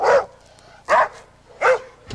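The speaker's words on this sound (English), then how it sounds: "this friendly-looking Weimaraner's bark is as vicious as her bite." A female Weimaraner barks three times, loud and close, with the barks evenly spaced and short pauses between them.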